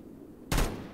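A single gunshot in a Minecraft SCP battle, one sharp loud burst that rings briefly before fading over faint background noise.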